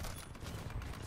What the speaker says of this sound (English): The smart pistol is a neat idea for a pistol, like tracking bullets.